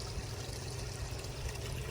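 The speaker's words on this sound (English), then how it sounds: "and let it pour back into the pond." Water from a backyard pond pump outlet pours back into the pond, a steady close rushing and splashing wash that continues without a break and without speech.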